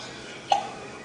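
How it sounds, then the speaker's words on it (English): A small child hiccups once at home, a single short, soft squeak against quiet room noise. "Do you have the hiccups?"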